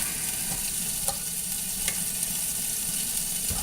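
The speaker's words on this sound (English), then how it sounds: "drop the condensed milk in the pot" Condensed milk dropped into a cooking pot and scraped out, heard as low scraping and soft knocks under a steady broadband sizzle-like hiss, with a few faint clicks and no voices.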